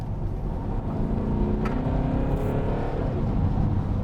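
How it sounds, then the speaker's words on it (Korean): A Peugeot 508 SW in comfort mode accelerates, its engine note blended with an artificial sound generator, a loud, steady drone heard from inside the cabin as the revs build. "여기서 가속 페달을 밟으면"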